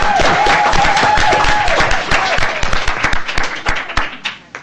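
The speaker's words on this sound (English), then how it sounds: "Let's give her a big round of applause." An audience at a Salt Lake City School District board meeting claps loudly for the district's Teacher of the Year, a dense burst of applause that thins into scattered individual claps toward the end.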